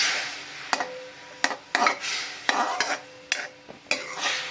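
A spoon slowly stirs jaggery with water in a pan to melt it for makhana til chikki. About eight distinct scraping strokes come at an unhurried, even pace over a soft bubbling hiss.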